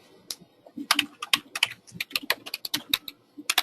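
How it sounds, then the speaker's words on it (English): Someone types on a computer keyboard, a quick uneven run of close key clicks and taps with short pauses between bursts and no voice. "So all we can do is just type in an easy question."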